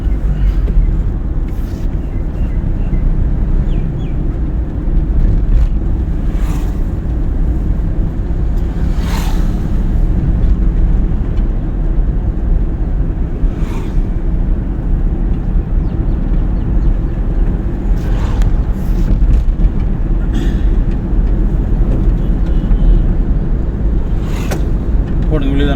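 A learner's car at a driving school runs on in third gear, a loud continuous low road and engine rumble mixed with wind buffeting, with a few brief knocks and voices talking over it.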